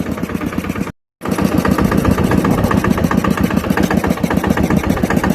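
New Holland tractor working a field with a harrow: a steady, throbbing engine chugs loudly and evenly, broken only by a brief gap of silence near the start.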